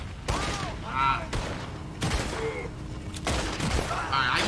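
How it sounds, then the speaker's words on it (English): Gunfire in Red Dead Redemption 2, several sharp loud shots at roughly one-second intervals, with someone talking between and over them. "Getting shot point blank like that"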